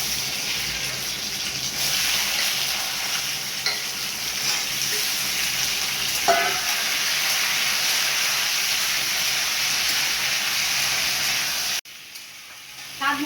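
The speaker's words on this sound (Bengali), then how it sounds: "তেল গরম হয়ে গেছে, সর্ষেটাও ভাজা ভাজা হয়ে গেছে। এবার আমি আমটা দিয়ে দেবো।" Mango pieces hit hot oil with frying mustard seeds in a pan, giving a loud, steady sizzle with occasional stirring, and the hiss cuts off sharply near the end.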